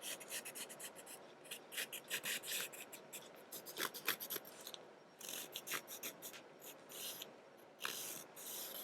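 A charcoal pencil outlines a house on a journal page in close, quiet scratchy strokes, a series of short rhythmic rubbing bursts with brief pauses between them.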